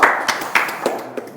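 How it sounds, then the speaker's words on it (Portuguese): A handful of separate claps ring out at a startup live event in Portimão. They come as sharp, close, irregular hand strikes, a few beats apart, with a brief trailing patter and no talking. "Uma salva de palmas para todos vocês."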